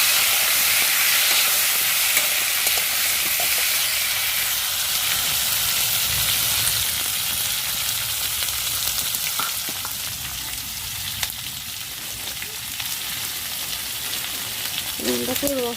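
Pointed gourd frying in oil in a pan on a home stove, a steady, close sizzle that continues throughout with occasional faint clinks and stirring.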